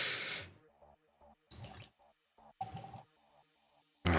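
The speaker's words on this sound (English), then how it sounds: "Yeah, this bottle sucks to pour." Bridgeland Taber Corn Bourbon is poured from an awkward single-cask bottle, coming out in several short, close, splashing glugs separated by brief pauses.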